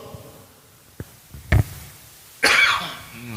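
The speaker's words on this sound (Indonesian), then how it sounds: "Ya Allah, ini ya batuk barusan" A single sharp cough bursts out, followed shortly by a louder, raspier cough with a breathy tail, preceded by a faint click.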